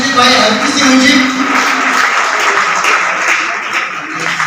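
Applause at a grand seminar in Delhi fills the room, loud and close, with a voice over it at the start and the clapping tapering slightly at the end.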